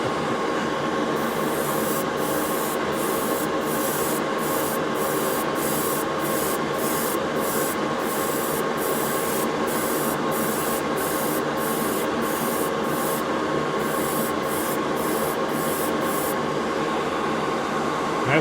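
An airbrush compressor runs nonstop beside a Gaahleri GHAD-39 airbrush spraying gray primer, giving a loud, steady close-up hiss and drone with a regular pattern of brief high clicks pulsing through most of it.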